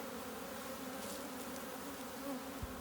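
A honeybee colony from a package installed three days earlier hums with steady, dense buzzing throughout a hive inspection. The drone is continuous and close, with no talk over it.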